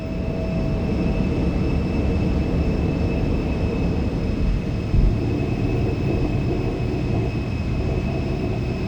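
A simulated Embraer E175 jet climbs after takeoff in a flight simulator, its engines producing a steady loud roar with a constant whine, close and unbroken throughout with no voices.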